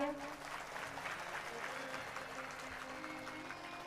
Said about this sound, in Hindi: तो बजा दीजिए तालियां